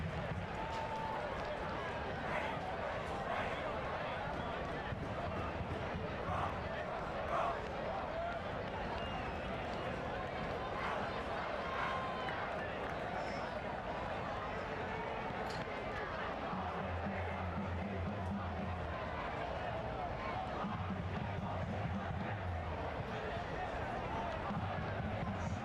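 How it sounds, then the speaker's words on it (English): Steady crowd murmur fills a track and field championships stadium as athletes practise their starts, a dense continuous babble of many voices at moderate distance with no single standout sound. "You can hear that crowd really building."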